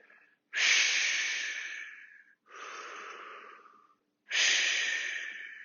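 Three long, forceful breaths, near and loud, rise and fade one after another during an exercise class, each a breathy rush separated by brief silences, with no talk.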